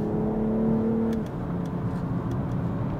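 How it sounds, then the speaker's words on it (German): BMW M440i Gran Coupé engine in sport mode, a steady drone that drops abruptly as it shifts, followed by a lower continuous hum with a few faint clicks, heard from inside the car. "Der Klang ist dann etwas verschärft. Er schaltet direkt."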